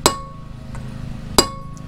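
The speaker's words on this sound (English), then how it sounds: "you take a brass drift, you put it right in line with the stud," A brass drift is struck against a stud to knock a cone washer loose on a Toyota first-generation 4Runner solid front axle, giving two sharp metallic strikes about a second apart, close and ringing, with a faint tap between.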